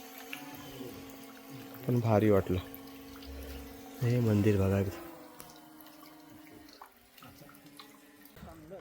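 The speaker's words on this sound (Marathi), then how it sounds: "पाणी आता एकदम कमी पडतंय, पण पाणी आजही पडते." Thin trickle of water from a stone cow-mouth spout at the Hemadpanthi-style Godhneshwar temple in Lonavala, a soft steady flow running faintly beneath a man's speech.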